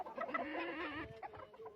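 A service chicken clucks repeatedly in a steady, fairly close and loud run of harmonic calls, with a brief pause before a few more clucks; no one talks.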